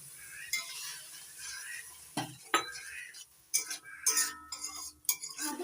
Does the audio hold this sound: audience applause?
no